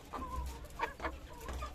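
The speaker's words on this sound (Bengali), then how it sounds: "এই হচ্ছে দেশি মোরগ, এই হচ্ছে দেশি মুরগির বাচ্চা" A local desi rooster and young chicks make a few soft, short clucks, faint and fairly close, with quiet pauses between them.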